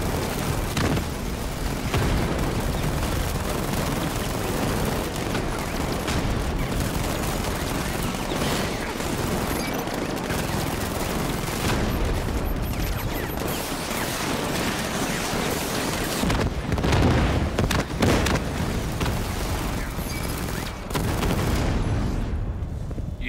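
Spinning, sustained gunfire in Batman: Arkham Knight, a dense, continuous barrage of shots and booms mixed with game noise that runs without a break, loud throughout.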